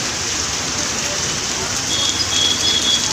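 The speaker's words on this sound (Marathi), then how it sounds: "जोरदार जोरदार पाऊस चालू आहे" Heavy monsoon rain pours down on a street in Dadar, Mumbai, in a steady, dense roar throughout, loud and close, with a faint high tone appearing near the end.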